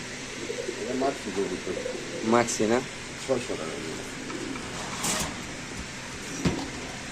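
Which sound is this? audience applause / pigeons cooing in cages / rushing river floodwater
pigeons cooing in cages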